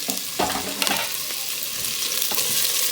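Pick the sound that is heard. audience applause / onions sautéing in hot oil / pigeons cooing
onions sautéing in hot oil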